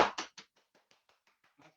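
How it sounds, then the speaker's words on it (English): A short burst of hand clapping, three loud claps followed by a string of quieter, evenly spaced taps that fade out, close and dry. "Round of applause."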